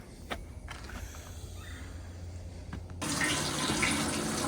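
Maple sap poured from a small bucket into a pan in a shed, a steady liquid splashing and gushing that starts abruptly partway through, louder and close, after a quieter stretch with a few light knocks.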